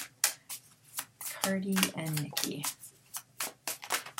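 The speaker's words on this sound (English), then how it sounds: "what I do is I shuffle till one card falls out" A deck of tarot cards is shuffled by hand, giving sharp repeated riffling bursts in a fairly even rhythm close up, while someone speaks over the middle stretch.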